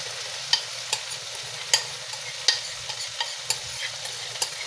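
Egg with ampalaya and shrimp frying in a pan, a steady low sizzle broken by sharp clicks and scrapes of a utensil stirring, close and moderately quiet, with no voices.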